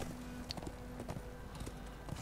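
Horse hooves in the video game Darksiders II clip-clop at a walking pace, faint and fairly distant, with quiet ambient background.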